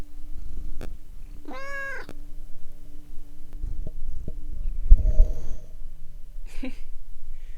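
A cat rubs against the microphone, making close, muffled thumps and brushing sounds, with a brief meow and soft purring between bumps.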